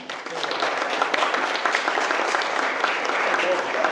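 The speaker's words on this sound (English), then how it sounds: "I'm going to applaud myself." Guests at a wedding reception applaud during the speeches, a steady wash of clapping from a room full of people that runs the whole time, with voices talking alongside it.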